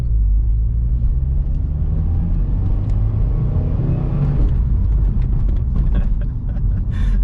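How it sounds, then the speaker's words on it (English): A Subaru WRX engine pulls hard with its turbo spooling up, a deep, loud rumble that builds under acceleration, heard up close from inside without talk. "Okay, it's quick. The turbo spool's addicting."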